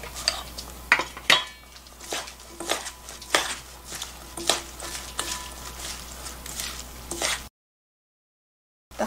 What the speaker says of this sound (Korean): 부추를 넣고 이제 무치시면 돼요